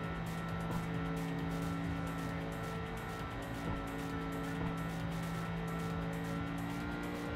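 A car engine in the Import Tuner Challenge racing game held against the rev limiter, giving a steady, droning high-rev buzz with a faint stutter throughout, constant and close, with no talk.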